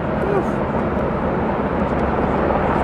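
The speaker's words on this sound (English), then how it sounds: "Helicopter comes over the mountain range" A loud, continuous roar of a helicopter passing nearby over a mountain range at an off-road race, broad and rumbling, with faint rhythmic thumping mixed into the wash of noise.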